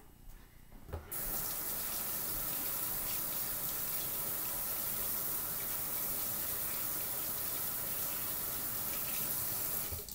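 Tap water runs steadily into a sink as a paintbrush is rinsed, starting abruptly after a second of quiet and continuing as a close, even hiss.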